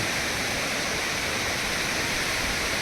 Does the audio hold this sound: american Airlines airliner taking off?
no